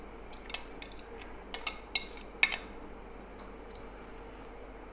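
A utensil clinks against a bowl several times as chicken is mixed into yogurt with ground green chili and coriander. The scattered taps are quiet and irregular.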